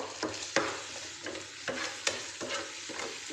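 Fish curry with salt is stirred and sautéed in a pan: a soft, constant sizzle punctuated by rhythmic scraping strokes of a spatula, fairly close and moderately quiet.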